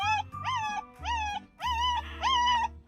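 A puppy cries in a series of high, wavering whimpers and yelps, close by and repeated in quick bursts with short pauses between.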